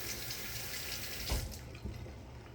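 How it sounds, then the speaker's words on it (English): Tap water runs steadily into a sink as hands are rinsed beneath it, with a brief louder splash partway through; no one speaks. "All right, so you rinse your hands."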